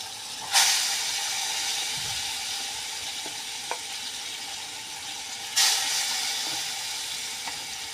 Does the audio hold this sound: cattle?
no